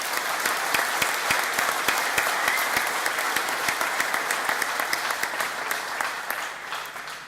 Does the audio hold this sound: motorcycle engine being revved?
no